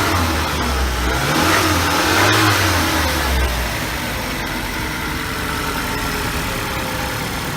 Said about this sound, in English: You want to give it a couple of revs, the engine?